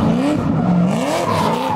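A supercharged LS V8 drift car at a drifting event, its engine screaming loudly with rising and falling pitch as it revs through the slide, close and continuous with no talk.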